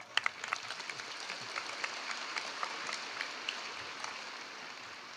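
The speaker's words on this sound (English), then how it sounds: "Let's give them a round of applause." High school graduation crowd applauds teachers and staff in a dense, sustained round of clapping heard from within the audience, with a few sharper claps near the start.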